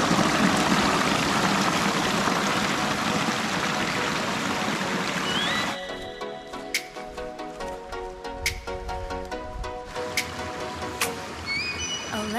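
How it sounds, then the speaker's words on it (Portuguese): A river streams past in a broad, steady rush for about six seconds, then drops to a softer flow with intermittent clicks and tonal sounds on top. "passando pelo rio, o Paulo disse que é o último ponto d'água."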